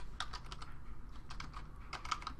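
Rapid, uneven keystrokes on a computer keyboard, close by, with clusters of clacks and brief pauses, typed while entering JavaScript code; no one talks.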